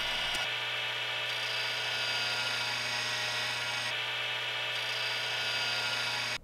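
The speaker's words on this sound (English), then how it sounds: "I then used my disc sander to finish sanding to the line." A disc sander grinds the curved ends of steam-bent wooden light bars down to a marked line, a loud continuous high whine that holds steady for several seconds, briefly shifting pitch as the wood is pressed in.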